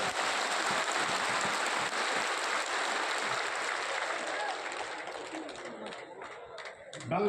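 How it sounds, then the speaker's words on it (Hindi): Audience at a political party gathering in Patna clapping in a dense, sustained wash of applause that thins out toward the end, with scattered chatter underneath. "जोर से ताली बजाइए।"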